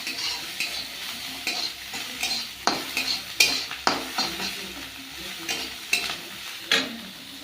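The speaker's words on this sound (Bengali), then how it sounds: "পেঁয়াজ দিয়ে চিংড়ি মাছটা মুলে নিয়েছি" Shrimp frying with onion and chilli in a pan at home, a steady low sizzle broken by repeated scraping and tapping of a utensil against the pan, close by, with no voices.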